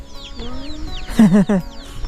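Chickens at a remote hill-tribe homestead in a deep forest in northern Thailand, heard as a few short clucks in a quick cluster, close by, with a faint background of bird calls and no speech.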